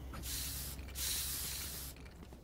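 A spray is used in a video game, two loud hissing bursts back to back, the first shorter and the second longer, cutting off cleanly with no talking.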